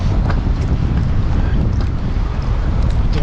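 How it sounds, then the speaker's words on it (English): Strong wind buffets the microphone on a boat while fishing at Bois D'Arc Lake, a constant loud low rumble and roar that fills the whole stretch with no talk. "The wind has really picked up."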